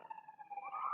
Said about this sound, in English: give it a chance for this fucking siren to pass